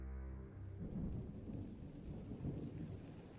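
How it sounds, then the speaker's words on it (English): Low rumbling thunder rolls down the mountains beneath a steady patter of rain drumming on a tent, heard from close by and fairly soft. "the sound of thunder rolling down the mountains and the rain pelting our tent"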